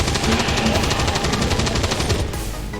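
Continuous automatic gunfire in XCOM 2 during a zombie fight, a fast even stream of loud shots that fills the whole moment before easing off slightly at the end.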